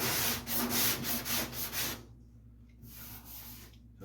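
A round sanding block rubs hard ridges of body filler on a 1956 Mopar panel truck, giving rhythmic rasping strokes that are loud at first, then a quieter pause and softer strokes.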